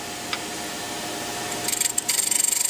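Parting tool cutting into wood on a lathe while turning a sword part, a faint steady whir at first, then a rhythmic scraping rasp that grows louder near the end.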